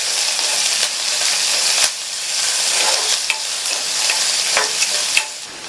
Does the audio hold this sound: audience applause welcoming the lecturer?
no